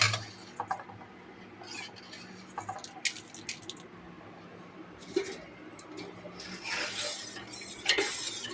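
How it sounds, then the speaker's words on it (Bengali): Rice is stirred in a hot pot with a metal utensil, giving irregular clinks and scrapes against the pot, with a few louder bursts of scraping and rustle near the end, close up and with no talk. "দেখছেন চাল দেওয়ার পরে একটু নাড়তে হচ্ছে, ওটাকে গরম হয়ে যাচ্ছে চাল।"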